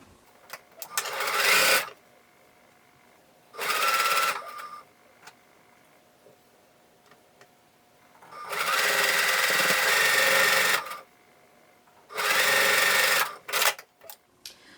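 Sewing machine stitching a seam on a star quilt block, running in loud close bursts of a second or two, one longer run of about three seconds, separated by quiet pauses.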